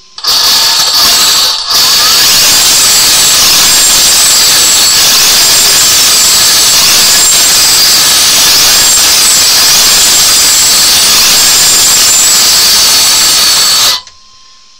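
An MCD XR5 motorbike engine running very loudly up close, a harsh continuous roaring hiss that holds steady for about twelve seconds before cutting off abruptly.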